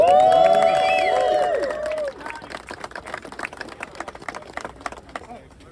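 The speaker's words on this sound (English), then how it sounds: "Another round of applause for our brothers and sisters out of Pittsburgh." Rally crowd at a Harrisburg transit rally applauds and cheers for union members from Pittsburgh, loud dense clapping with a held tone and voices for about two seconds, then thinner scattered claps and crowd noise.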